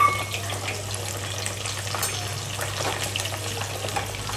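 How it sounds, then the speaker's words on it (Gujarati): Cauliflower frying in hot oil for a green undhiyu, a steady broadband sizzle with a low hum running underneath, continuous and fairly close, no voices. "તો હવે ફ્લાવરને આપણે ફ્રાય કરી નાખશું."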